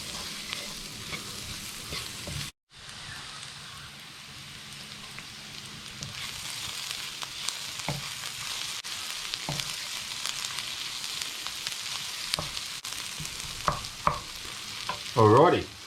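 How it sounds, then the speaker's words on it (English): Curry powder and Kashmiri chili powder frying in a pan for a lamb shank and pumpkin curry, a continuous close sizzle and crackle with occasional stirring scrapes and a brief dropout early on. "those spices have been cooking away for a few minutes"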